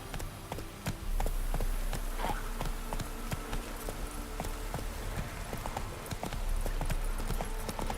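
Hoofbeats of Roach the horse galloping in Witcher 3, a fast, steady clip-clop rhythm that runs the whole time over a dense buzzing ambient bed, with no voices.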